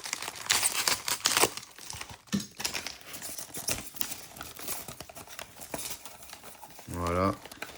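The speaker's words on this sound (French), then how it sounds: "Alors, laissez-moi le temps de l'ouvrir." Close, busy crinkling and rustling of packaging as a parcel is torn open, with irregular bursts of crackling plastic and paper that continue steadily, then a brief voice near the end.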